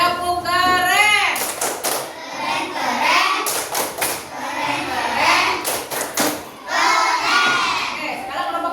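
Schoolchildren doing the 'tepuk keren' clapping chant, sharp bursts of group claps between chanted and shouted children's voices, lively and close, with the chant set to a bouncing rhythm.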